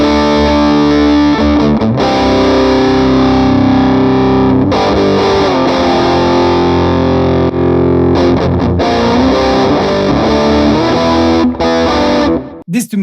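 A heavily distorted high-gain electric guitar through a modeled Mesa Boogie amp in Amplitube 5 plays loud, thick chugging riffs with sustained chords and short pauses between phrases.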